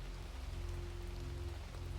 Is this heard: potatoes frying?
no